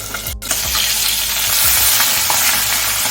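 Pabda fish frying hard in hot mustard oil in a half-covered wok for shorshe pabda, a steady close sizzle and spatter running the whole time with no voices.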